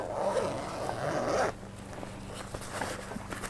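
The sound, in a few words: zipping up a light-tight photo changing bag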